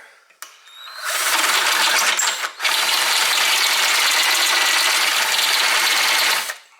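A power drill bores through a front-end part of a 1968 Pontiac GTO, a loud, close, steady whine that spins up, pauses briefly, then runs for several seconds before stopping.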